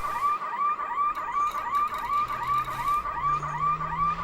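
A repeating warning alarm in the space game Elite Dangerous cycles in a fast, regular pattern of rising and falling electronic tones. It sounds steadily and clearly, with faint low hums beneath and no voices.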